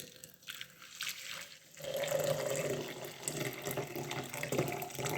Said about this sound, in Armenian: եռացրած ջուրն էլ լցնում եմ վրան,